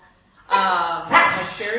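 A pet dog barks and whimpers indoors in a home, a few close yips and barks overlapping with people talking.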